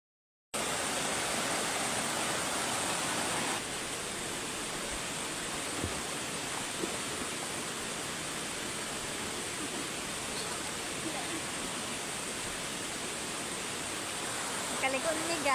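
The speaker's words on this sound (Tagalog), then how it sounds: "Ang agasanan sa tubig gikan sa bukid mo nang naay mini waterfalls." Mountain spring water at Saay Cold Spring in Camiguin rushing over small cascades, a steady broadband hiss of flowing water throughout, close and constant, with no voices heard.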